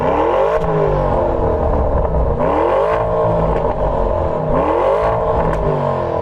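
An Audi RS Q8 engine with its standard exhaust revs loudly and steadily, rising and falling in repeated cycles with a throaty, unmodified exhaust note.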